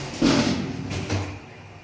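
XiZi Otis traction elevator doors sliding shut in an apartment building, a single close, fairly loud rolling slide lasting about a second with a soft thud at the end.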